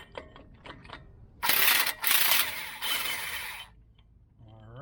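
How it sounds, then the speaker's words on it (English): Impact wrench removing a nut on a Jeep CJ-7, three loud close rattling bursts of hammering, with softer mechanical clicks before and after. "I'm just going to go ahead and use my big impact since I have it sitting here."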